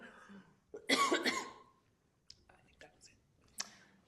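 A person coughs during a law-firm panel discussion: one loud, harsh burst of coughs close to the microphone, followed by a few faint throat clicks and small coughs in an otherwise quiet room.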